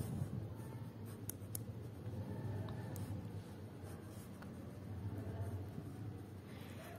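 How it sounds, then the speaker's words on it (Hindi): Pen or marker scratches steadily across paper or a board while a quadratic-type equation is written out by hand, a faint continuous scribble under low room hum. "हम सबसे पहले लिखेंगे गिवन इक्वेशन"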